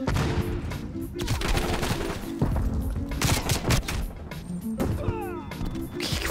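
A Tomahawk blows up against a Trophy System in an online shooter, giving a burst of loud gunfire and explosive crashes amid chaotic in-game combat, with game music and effects layered close throughout.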